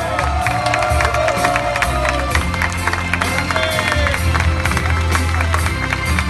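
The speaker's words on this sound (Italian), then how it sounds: "Signore e signori, gli applausi sono per un portacolori del Team Sky, Chris Froome!" A crowd cheers and applauds at the 2018 Giro d'Italia awards ceremony in Rome for a Team Sky rider, loud and continuous, with shouts and whistles over dense clapping.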